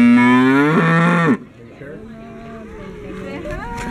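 Cow giving one long, loud, close moo that stops abruptly, followed by quiet farm ambience and faint voices.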